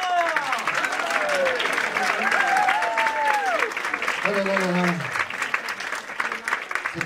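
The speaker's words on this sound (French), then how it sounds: "j'aimerais qu'on applaudisse bien fort Monsieur Rémi Parker" Audience applause for Monsieur Rémi Parker in a radio studio show, steady dense clapping filling the clip while someone talks loudly over it and exclaims.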